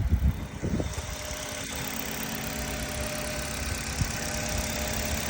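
A 2014 Hyundai Accent car engine idling, a low steady rumble with light knocking vibration, a few faint thumps early on, heard alone without talk.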